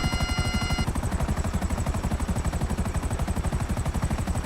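Apache helicopter in the GTA 5 video game: fast, steady rotor thumping runs throughout, with a brief high whine near the start, loud and close, with no talk.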